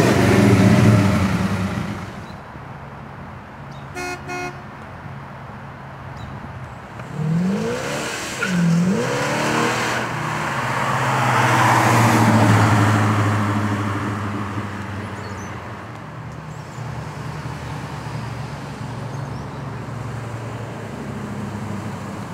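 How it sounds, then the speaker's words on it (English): A Pontiac GTO muscle car with a heavy-duty 12-bolt posi-traction rear end cruises along, its engine note rising and falling through several loud accelerations, with a brief tire chirp and steady road rumble throughout. "Let's take this GTO for a little cruise"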